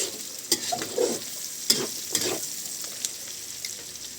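Tomatoes are added to a hot frying pan, giving a close, steady sizzle with scattered scraping and clattering stirring hits at irregular intervals; no talking.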